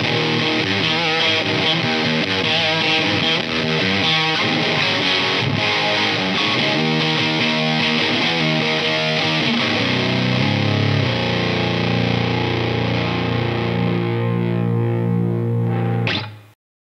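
An electric guitar played through a Pro Co Lil' Rat mini distortion pedal, with distortion, filter and volume set moderately high, rings out loud and saturated in a continuous riff, ending on a sustained chord that cuts off sharply.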